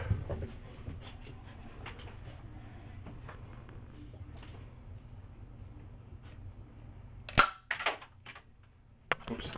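A Nerf Longshot blaster fires foam darts with a sharp, snappy pop, followed by a second quick shot and some light handling clicks, all in a quiet room.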